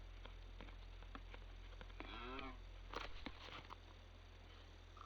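A cow moos in the Minecraft video game, a single drawn-out low call over a steady quiet game background, followed by brief clicks and movement sounds.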